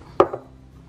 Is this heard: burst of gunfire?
no